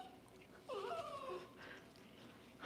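An excited dog gives a short, high whimper at moderate distance, a brief whining cry over a quiet room with light breathing around it.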